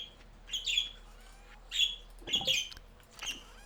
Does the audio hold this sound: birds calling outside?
yes